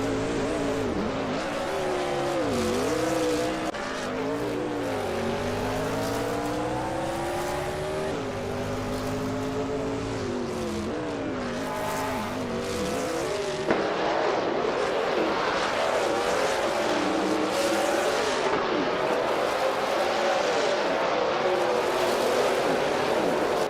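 Race cars cornering and braking hard on a track, engines whining and shifting pitch continuously as several cars jockey for position, loud and sustained with tire squeal, no talking.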